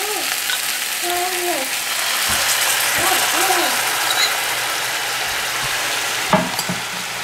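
Pork steak and well-charred onions sizzling in a pan as they are coated in a sauce mixture, a steady broadband frying hiss with occasional scraping stirs and a sharp clack near the end, and brief voices speaking over it.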